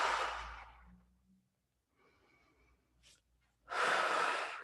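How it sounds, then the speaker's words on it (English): A person breathes during an exercise routine of leg changes and lifts, with a long, airy exhale, a pause, then a strong inhale, close and alone. "Breathe in, exhale, change."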